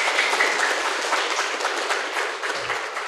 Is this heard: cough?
no